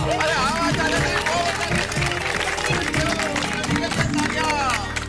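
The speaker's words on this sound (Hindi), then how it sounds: "इसलिए आप सब अपने लिए जोरदार ताली बजाइए।" A crowd applauds loudly and steadily at a staged event, the clapping blending with music and overlapping voices throughout.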